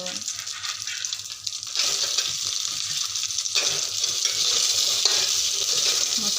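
A cooked-rice breakfast dish is stir-fried in a pan, with a hiss that grows louder after a brief quieter start and soft scraping stirs continuing close by.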